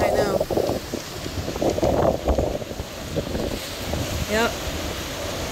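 Strong Hurricane Ian wind in North Port buffets the microphone in steady gusty roaring, loud and close throughout, with people talking intermittently over it.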